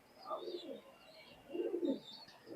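An imported teddy pigeon sitting on eggs in a jute-lined nest coos in two soft, low, throaty bursts, close by and fairly quiet, with no talking.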